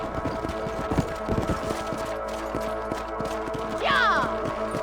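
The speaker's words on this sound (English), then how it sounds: "Let's get back on the horses and see what else is going on." Horses' hooves clip-clop steadily on open ground in the Red Dead Redemption video game, a close rhythmic trot, joined near the end by a brief whinny.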